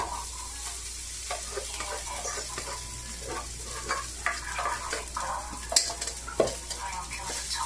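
Leftover cooked rice being stir-fried in a pan for sinangag, a Filipino garlic fried rice: steady close sizzling and frying with repeated scraping, stirring clicks of a utensil against the pan, no talk.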